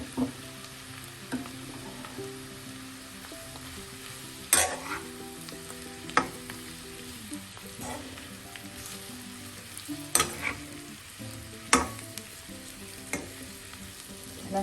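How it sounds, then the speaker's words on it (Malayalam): Masala-coated ivy gourd (kovakka) fries in a pan with a steady soft sizzle, while a spatula stirs it, scraping and clinking against the pan every second or two, close and without talk. "ഈ സമയം നമുക്ക് മസാല പുരട്ടിയ കോവയ്ക്കാൻ ചേർക്കാം."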